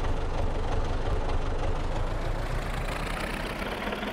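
A tractor engine idles in Farming Simulator, a steady low rumble that holds evenly for several seconds with no voices over it.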